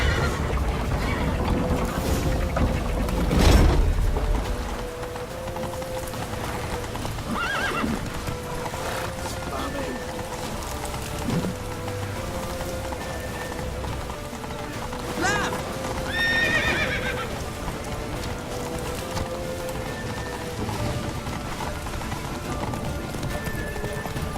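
Horses whinnying and hooves clip-clopping in The Witcher 3, a neigh standing out early over steady hoofbeats and busy game ambience, with more whinnies later on.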